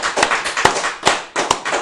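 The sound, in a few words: applause for guest Corey Pegues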